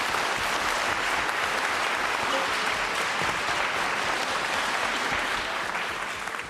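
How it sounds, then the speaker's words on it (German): Steady, dense audience applause at a live-streamed event, loud and continuous throughout with no voices over it, tapering very slightly at the end. "Applaus."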